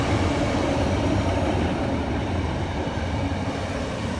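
A Class 156 diesel passenger train runs past at a suburban station, a dense, continuous rumble and rolling wheel noise filling the whole stretch at steady loudness, with no voices.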